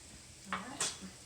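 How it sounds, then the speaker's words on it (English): Chopped onions sizzle in a hot pan as a steady hiss, close by, while a utensil clinks and scrapes against the pan a couple of times. "we're going to add some onions. All right, yep, we've got our sizzle. Hear that?"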